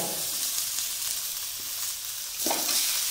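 Chicken pieces fry in a hot tempering for omelette chicken sukka, giving a steady close sizzle with a brief louder burst of stirring near the end.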